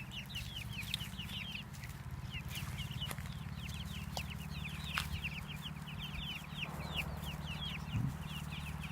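Six-week-old chicks out on pasture give steady, overlapping soft clucks and chirps throughout, with a faint low hum beneath and no talking.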